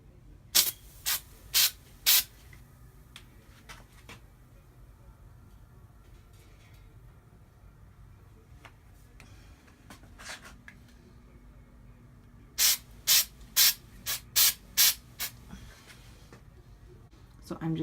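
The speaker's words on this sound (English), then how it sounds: "The Santa snow will be sprayed on the outside to give it, you know, like that little snow look." Short bursts of Santa snow aerosol sprayed onto a wine bottle, a quick run of four hissing sprays at the start and another cluster of five or six near the end, with quieter handling in between.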